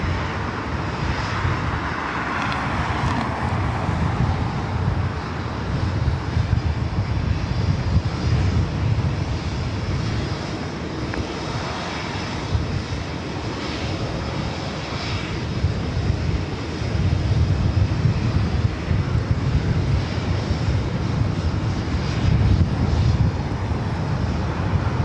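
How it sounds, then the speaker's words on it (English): A Boeing 787-9 Dreamliner jet airliner at LAX, a steady broad engine roar held at a fairly constant level throughout, with some wind buffeting and no talking. "Flight 712 heading back to London Gatwick. 787-9 Dreamliner."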